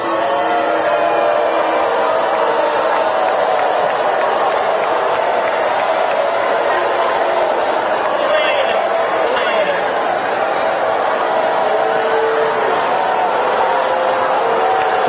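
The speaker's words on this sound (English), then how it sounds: "a bunch of people started booing her, started chanting Trump and stuff" A large crowd at a Kamala Harris rally boos and chants Trump: a dense, loud, continuous roar of many voices that holds steady throughout with no pauses.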